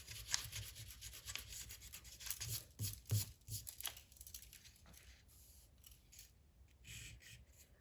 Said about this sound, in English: So let me kind of erase the mess I made here.